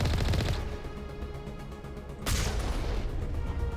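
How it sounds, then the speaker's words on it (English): Gunfire from the video game Mass Effect, a burst of rapid shots up close followed by a brief lull and another loud blast, continuing as sustained firing. "But I can shoot some people first."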